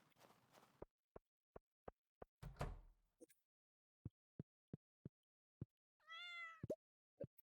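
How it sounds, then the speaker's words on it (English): A cat lets out a single rising meow partway through, short and clear, amid a sparse run of sharp clicks and tapping thuds with silence between them. "Cat."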